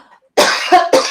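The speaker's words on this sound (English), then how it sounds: "I'm going to cough." A woman coughs three times close up in quick succession, each a sharp rasping burst after a brief quiet pause.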